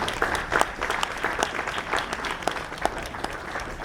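An audience applauds at a Hawaiian steel guitar concert, with steady dense clapping from a crowd that keeps a full, even level throughout and rises in a few louder peaks.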